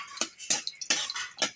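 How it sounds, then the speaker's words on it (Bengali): A bay leaf tempering is stirred in hot white oil in a pan, making a quick series of sharp metallic clinks and scrapes from a spoon against the pan, close and crisp, with no voice. "এবার ফোড়নটা একটু নেড়ে চেড়ে নেব"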